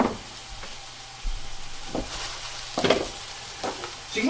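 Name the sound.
hash browns frying in oil in pan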